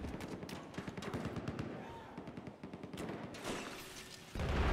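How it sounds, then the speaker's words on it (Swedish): Rapid automatic rifle fire in the video game Battlefield crackles in fast bursts at moderate distance, with scattered single shots mixing into the stream of fire and a louder burst near the end. "Dessutom regnade skott på oss någonstans ifrån."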